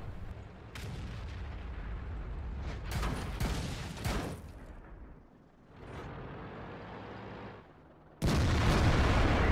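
Tank cannon fire in World of Tanks, heavy IS-6 gun blasts booming out in several sharp, loud reports separated by pauses, with rumbling engine and battle noise underneath and a final powerful blast near the end.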